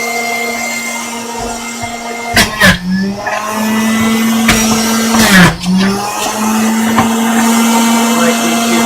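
An electric juicer runs loudly, whining at a steady pitch while carrots and apples are pushed through. Its motor bogs down and dips in pitch twice as produce is forced in, with knocks and clunks at those moments.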